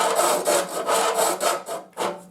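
A hand file rasps back and forth across the teeth of a rip saw in quick, harsh strokes, about eight in a row, close and loud with a brief gap near the end.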